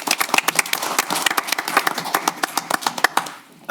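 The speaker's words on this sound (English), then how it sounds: "Please give them a round of applause." Applause from an audience at a city council meeting, a steady clatter of many hands clapping for a few seconds before fading out at the end.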